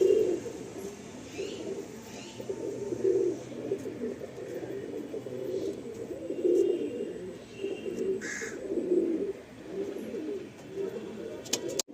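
A male Madrasi pigeon coos repeatedly in soft, rounded bursts at a moderate distance, the calls recurring every couple of seconds over a low background hum.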